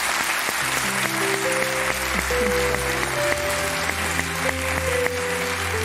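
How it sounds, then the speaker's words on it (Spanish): A television studio audience applauds on an afternoon talk show, a continuous spread of clapping heard under a musical backdrop, with a brief shout from a voice partway through. "Un aplauso para esa madre."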